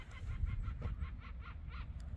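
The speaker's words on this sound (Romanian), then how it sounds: "ăștia sunt pescăruși pe aici, pe sus, ce se aude" Seagulls call overhead in Craiova, Romania, a series of rhythmic, faint cries against low rumbling background noise, with no talking.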